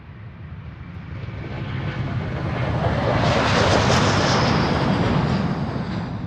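A fixed-wing airliner taking off at Amsterdam Schiphol Airport, heard from a distance as a broad, steady engine roar that swells to a peak midway and holds loud without voices.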